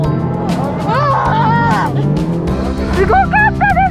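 A regular passenger car drifts with squealing tires at a driving event at Driving Palette Nasu. The engine runs steadily under excited voices and chatter, and sharper, rising tire squeals stand out near the end.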